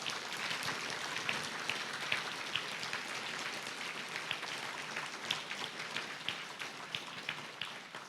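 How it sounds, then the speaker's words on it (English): A lecture hall audience applauds mathematician Shing Tung Yao, an even patter of many hands clapping steadily for several seconds, soft and somewhat distant, with no voices. "I want you to give a round of applause to my partner in this wonderful effort, Professor Shing Tung Yao"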